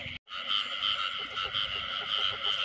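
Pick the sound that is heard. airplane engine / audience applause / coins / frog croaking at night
frog croaking at night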